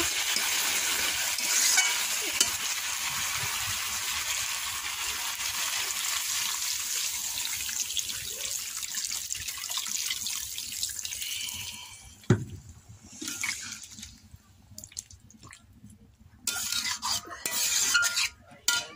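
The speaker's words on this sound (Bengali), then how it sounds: "পরিমাণ মতো জল দিয়ে দিলাম।" Water pours into a pan of cooked chicken curry as a steady, close hiss that runs for about twelve seconds, then breaks into sporadic splashes and stirring sounds.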